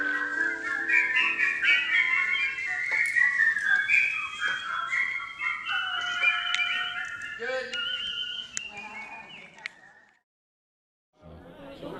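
A competitive whistler performs a long melodic tune at a whistling championship gathering, with clear sustained pitches and runs that trail off before a short silence and a brief resumption.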